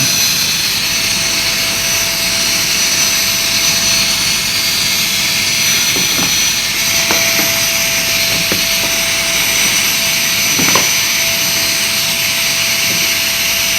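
A JisuLife Life9 handheld fan runs at level 5, producing a loud, steady whooshing whir with a thin constant motor whine, close up, broken only by a few faint taps.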